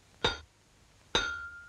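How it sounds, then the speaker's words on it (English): Two sharp, bright cartoon hammer strikes on a nail in a wall, spaced about a second apart, each ringing briefly with a metallic, glassy clink. "Now, what could get muddled with hammering a nail into a wall?"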